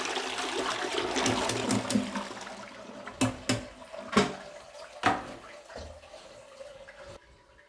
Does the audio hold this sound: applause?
no